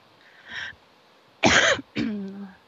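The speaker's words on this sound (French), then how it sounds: "ça se peut que j'ai une tousse qui remonte" A faint breath is followed by two sharp, close coughs in quick succession, the second trailing into a throaty rasp.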